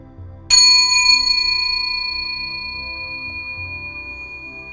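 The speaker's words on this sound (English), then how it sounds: "I ring this bell for our beautiful teacher, Thích Han." A single bell rung in tribute gives one bright, clear strike with a long, sustained ringing tone that slowly fades over several seconds, alone with no voices.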